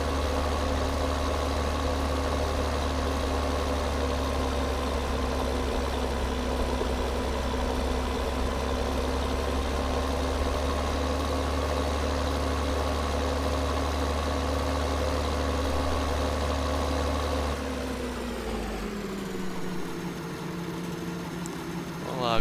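In Farming Simulator 2013, a tractor engine drones in a steady, even idle for most of the stretch, then drops off and winds down near the end, loud and close.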